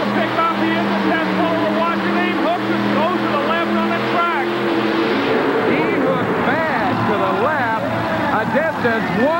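Engine of a racing boat at a 1989 race in Atlanta runs steadily throughout an engine test pull, with a droning harmonic tone that rises in pitch toward the end while a commentator talks over it.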